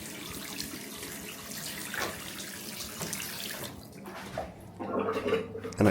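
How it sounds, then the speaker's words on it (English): Water runs steadily from a bathroom basin tap as the pipes are flushed through after plumbing work, a continuous hiss of flow that grows louder and splashier toward the end. "slowly turn the water on, flush through the pipes through the basin."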